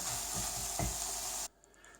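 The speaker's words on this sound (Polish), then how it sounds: "I wszystko podsmażamy." Meat fries in a pan for Mexican soup, giving a loud, steady close sizzle with a brief stirring scrape, then cutting off abruptly and leaving near quiet with no talking.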